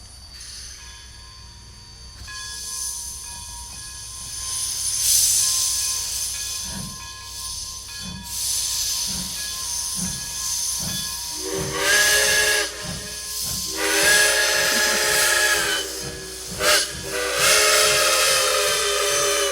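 A steam train chuffs in a steady rhythm with loud hissing bursts of steam, and a shrill whistle sounds repeatedly in the second half.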